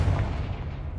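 A Confringo fire spell bursts in Hogwarts Legacy with a deep, booming blast that rumbles heavily at first and fades over about a second, ending with a brief brighter crackle.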